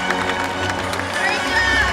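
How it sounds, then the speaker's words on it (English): Audience at a SeaWorld San Diego killer whale show claps and cheers in a dense, loud burst of crowd noise throughout the short moment, with voices mixed in. "Everyone give a big round of applause to our volunteer"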